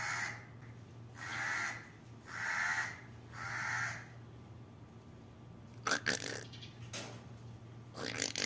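A crow gives three loud, harsh caws spaced about a second apart, followed by a stretch of sharp clattering and rustling noises nearby.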